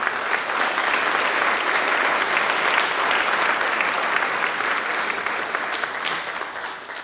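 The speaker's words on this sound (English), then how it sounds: "Round of applause." At a spring school band concert, the audience applauds steadily and loudly for several seconds, a dense wash of clapping that fades slightly toward the end.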